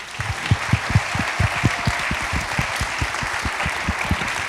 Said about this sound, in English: I want everybody in here to give this panel another round of applause